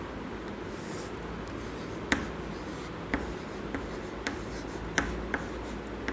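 A teacher writes the names of weekdays on a board. Soft strokes and scattered light taps recur irregularly over several seconds against a faint, hissy room background, with no voices.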